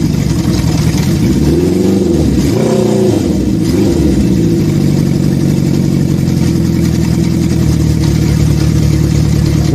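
A Honda CB750 motorcycle engine idling loudly nearby, with a couple of throttle blips that rise and fall before settling back into a steady rumble.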